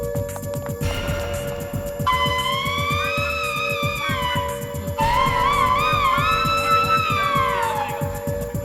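A fire alarm wails in rising and falling siren-like sweeps, two long loud cycles sounding over a low, steady rhythmic background.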